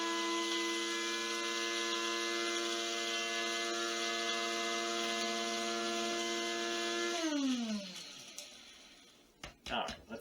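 An electric grinder processing an herb mix hums with a steady, buzzing motor tone, then winds down, followed by a few faint rattling knocks as it stops.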